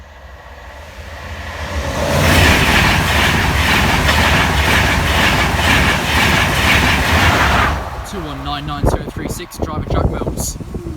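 A train passes the Grove Road level crossing with a loud rush of wheels and rumble that swells, holds for several seconds and then cuts off sharply, followed by people talking nearby.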